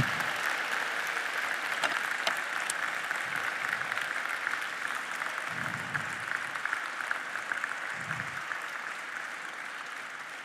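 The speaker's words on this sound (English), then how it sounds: "we give them a round of applause right now and thank them" Sustained applause from a graduation ceremony audience honoring parents in a large concert hall, dense even clapping filling the whole stretch at moderate level, with no talking.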